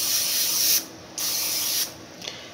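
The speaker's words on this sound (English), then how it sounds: "There's not that much spray left in here, so I'm going to use the last of it before I throw it away." Nearly empty can of cooking spray aimed into a casserole dish, giving two close hissing bursts of about a second each with a short pause between them.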